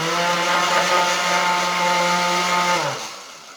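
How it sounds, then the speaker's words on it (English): An electric blender whirs steadily at close range, blending pinto bean hummus, its motor droning with a high hum for about three seconds before spinning down and stopping. "Hope you have a better blender than I have, but it does work"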